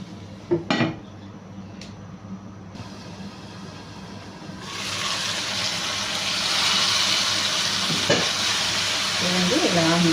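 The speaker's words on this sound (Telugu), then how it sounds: "మనకు టమాటో అంతా మ్యాష్ అవ్వాలి మంచి కలర్ వస్తుందండి" Tomatoes frying and being stirred in a pan for a paya curry. A few metal clinks of a utensil on the pan come first, then a loud, steady sizzle takes over and continues with occasional scraping and stirring.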